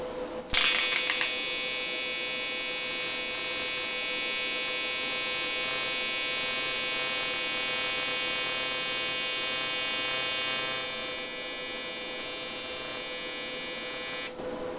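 Primeweld TIG225X AC TIG welder laying a first bead on 50-thou material at about 50 amps: a steady, loud electric buzz and hum starts abruptly and holds for about fourteen seconds, then cuts off.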